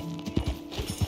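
Horse hooves clip-clopping in the video game Red Dead Redemption 2, a short run of soft, evenly spaced thuds, fairly faint.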